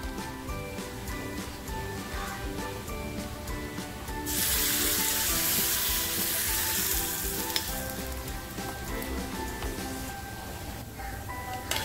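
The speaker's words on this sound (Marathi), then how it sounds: "हा तडका ह्या चटणीमध्ये देते।" Hot tadka tempering of oil with asafoetida and red chilli powder sizzles loudly as it is poured into a chutney, a steady frying hiss that swells sharply midway, with kitchen clatter beneath and no talk.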